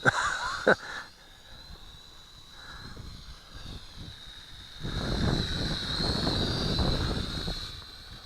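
A small Syma X5C quadcopter drone flies outdoors in wind, giving a steady high-pitched rotor whine throughout, with a louder rush of wind buffeting the microphone in the second half.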